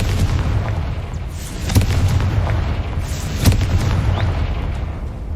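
A Confringo fire spell bursts in Hogwarts Legacy combat, sharp explosive booms cracking out near 1.8 and 3.5 seconds over a steady low rumbling battle din, loud and close, with no talk.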